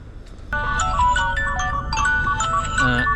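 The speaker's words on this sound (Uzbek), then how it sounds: "SMS keldi" A mobile phone in a truck cab plays a melodic SMS notification ringtone, a loud bright electronic tune of repeated chiming notes over a low engine rumble.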